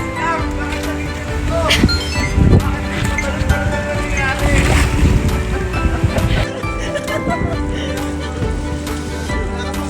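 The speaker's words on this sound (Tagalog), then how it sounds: "Nasa dagat tayo." Sea water splashes and churns around a boat off Morogondon, Cavite, with bursts of spray and hissing surf over a steady engine-like rumble; people's voices come and go.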